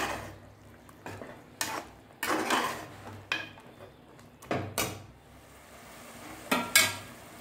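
Masala for mutton biryani being stirred on high flame, with a utensil scraping and knocking against the pot in irregular strokes over a faint steady sizzle, and no talking.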